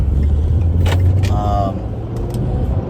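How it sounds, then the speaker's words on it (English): A car engine hums steadily from inside the cabin, a loud low drone with faint rattles and clicks over it and a voice speaking briefly. "I don't know how how loud my car is going to be"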